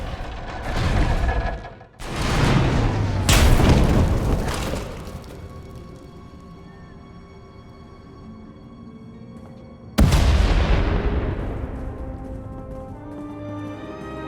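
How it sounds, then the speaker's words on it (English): Heavy booming blasts in the video game Star Wars: The Old Republic, with rumbling, crackling debris, a cluster early on, then a quieter lull before another sudden loud explosion rolls off. "We heard explosions."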